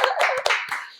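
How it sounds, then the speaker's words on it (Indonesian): A brief burst of hand clapping from a small group during an Indonesian podcast, a quick close patter lasting about a second. "Tepuk tangan dulu, teman-teman."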